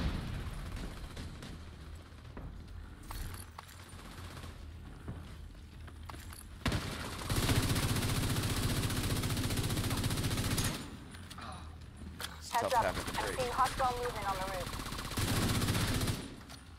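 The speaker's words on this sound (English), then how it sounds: "Tommy gun." A Tommy gun firing in The Division 2: long sustained bursts of rapid automatic fire, loud and continuous for several seconds at a time, separated by quieter gaps, with a voice briefly heard between bursts.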